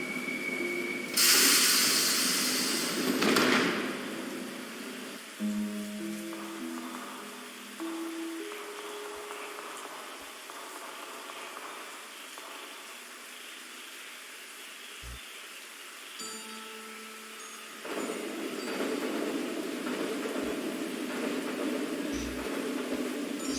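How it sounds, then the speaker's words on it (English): A train rolls past in a video game, a broad hissing, rumbling passage that swells loudly at the start, fades through quieter stretches with scattered tones, and builds again near the end. "Train?"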